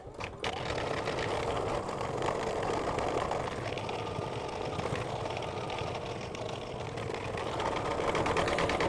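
An embroidery machine stitches a mug rug design at relatively slow speed, a steady rapid mechanical chatter and whir that runs continuously after a brief start, close and moderately loud.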